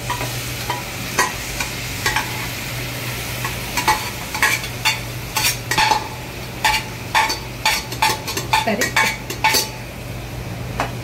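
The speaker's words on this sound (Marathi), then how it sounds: "आता हे पूर्ण मी मिक्स करून घ्यायचं" A spoon stirs mutton through masala in a metal pan: a rhythmic run of sharp scraping and clinking strokes, close and loud, over a soft continuous hiss of cooking, with no talking.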